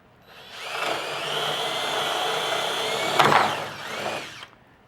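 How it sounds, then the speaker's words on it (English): A power drill bores pilot holes in scrap wood for a jigsaw cut, whining steadily for about four seconds with a brief bite and surge near the end before spinning down, close and loud. "So we've got those two pilot holes drilled."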